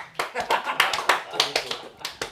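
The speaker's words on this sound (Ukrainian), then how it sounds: "Юрій Морошковський, ваш аплодисмент" A live comedy audience bursts into applause at a Ukrainian stand-up show, with dense, rapid hand clapping that swells and pulses for a couple of seconds, a voice or two faintly audible in the crowd.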